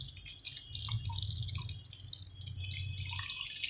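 Water trickling and dripping over a sand sample being washed and swirled for a silt content test, a steady light splashing that runs alone throughout.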